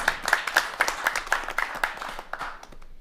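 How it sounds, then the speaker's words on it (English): An audience applauds at a City of Waterville, Ohio public meeting, with a burst of brisk, fairly even clapping from a modest crowd that thins and fades away after a few seconds. "let's give him a round of applause for his new position"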